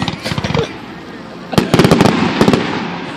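Canada Day fireworks bursting in sharp crackling clusters, loud and fairly close, in two main volleys separated by a short lull, with people talking nearby.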